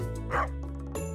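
A pet dog in the farming video game Stardew Valley gives a single short, soft yip-like bark over steady background game music.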